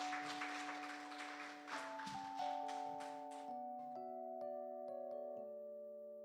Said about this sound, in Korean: 오늘 나눠주신 목사님께 다시 한번 큰 박수 부탁드리겠습니다